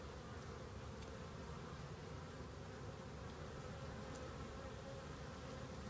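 A continuous low buzzing hum of many bees flying around, steady and moderately distant, with no talking.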